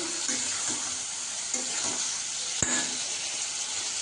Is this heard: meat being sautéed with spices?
yes